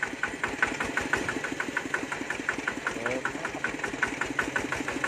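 A hand-started walk-behind tractor engine, converted for ride-on use, idles close by with a steady rapid chugging knock, running on without pause.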